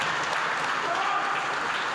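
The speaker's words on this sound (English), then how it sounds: "give them a round of applause" Applause from the audience at a governing body inauguration ceremony, a dense, even wash of clapping filling the whole moment without a break.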